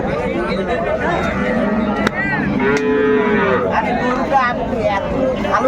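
Sahiwal cows and calves low repeatedly, drawn-out moos rising over dense crowd chatter and hubbub at a busy rural cattle market.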